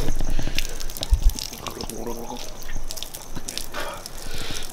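Water rushes steadily from a hose in a noisy, close-up stream with faint dripping and splashing, while muffled voices and background commotion carry on around it.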